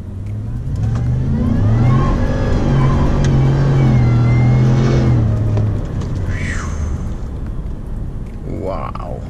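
Supercharged 2018 Ford F-150 pickup with a Whipple-blown 5.0L V8 accelerating hard from 60 to 85 mph, a loud sustained engine roar rising in pitch inside the cab, with voices talking over it.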